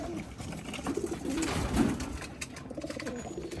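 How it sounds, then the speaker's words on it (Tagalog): Black velvet racing pigeons cooing nearby, soft low throaty coos repeating over a steady outdoor background. "Malapit sa mga kalapatids."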